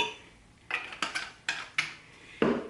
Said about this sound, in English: And I'm just going to mix that